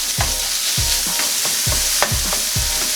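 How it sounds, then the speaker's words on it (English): Ground meat fries in a pan for taco rice as a spatula breaks it apart, producing about six rhythmic scraping strokes over a loud, steady sizzle, close up with no voices. "So now I'm just gonna break it up into little pieces to make it look a lot more ground"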